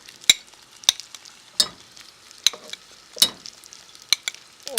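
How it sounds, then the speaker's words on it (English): Butter warms in a pan for a white sauce, with a soft sizzle beneath a series of sharp, irregular scrapes and taps of a utensil stirring about every half second, fairly quiet and without speech. "get this pan a little warm, add some butter, and I'm going to make a white sauce"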